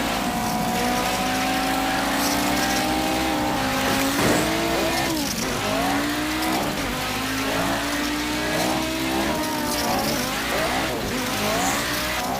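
Motorized diecast toy cars race along a track, a steady loud motor whine with rising pitch sweeps and squealing as the cars run, continuous throughout.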